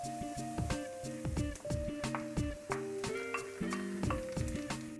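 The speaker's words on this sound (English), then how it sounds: "The potatoes and corned beef are cooked through now, so we're going to add in the beans" Corned beef hash of potatoes and corned beef frying in a pan as beans are added, with a steady sizzle under repeated sharp clicks and knocks of a utensil against the pan and faint tonal hums.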